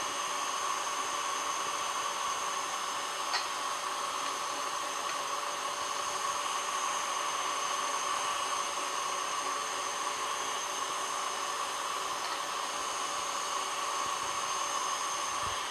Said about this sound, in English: I'm gonna go ahead and speed up our KitchenAid whipping here to like high.